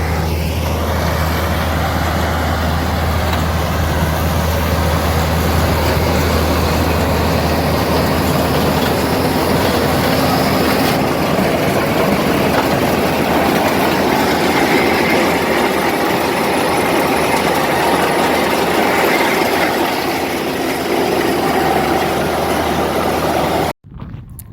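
Steady, loud mechanical drone from an 8830 windrower cutting hay, a constant engine hum with broadband rattle and vibration that runs unbroken for over twenty seconds, then cuts off abruptly.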